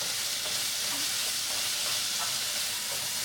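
Chicken and ginger sizzle in a hot pan while being stirred together, a loud, steady frying hiss with faint scrapes and clicks of the utensil running under it throughout.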